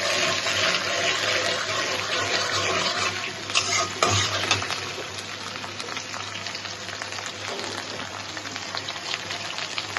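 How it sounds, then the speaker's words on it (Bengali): Prawns frying in hot oil with salt added, a steady dense sizzle running continuously and fairly loud, with a brief louder stir or clatter near the middle and no talking. "প্রথমে চিংড়ি মাছটাকে তেলের ভিতরে সুন্দর করে ভাজতে লই, লবণ দিয়ে দেন"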